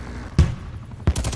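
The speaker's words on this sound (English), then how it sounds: "Hostile sentry turret active." Gunfire from a sentry turret in Call of Duty Black Ops Cold War, two sharp, loud shots a little under a second apart, the second followed by a short burst.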